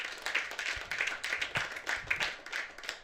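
A comedy club crowd claps in sparse, uneven bursts over a few seconds, individual hand claps distinct and fairly close, without clear cheering voices.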